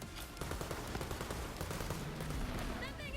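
Rapid gunfire during a Borderlands 3 boss fight against the Rampager, with dense bursts of shots firing continuously and loud throughout.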